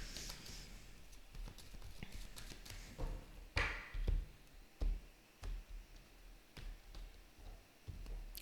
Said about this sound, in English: I'm just gonna shuffle then split.